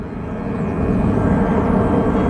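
An Embraer regional jet at Phoenix Sky Harbor airport produces a steady, loud engine roar that swells gradually, a continuous low rumble close by.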